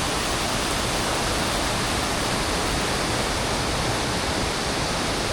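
Steady, dense rush of falling water, loud and unbroken throughout, from nearby Tagbibinta Falls in Maragusan, Davao de Oro, with no voices.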